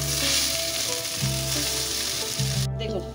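Rice frying in a pan for chicken tayari, a loud continuous sizzle with shifting stirring sounds and humming tones beneath, fading slightly near the end.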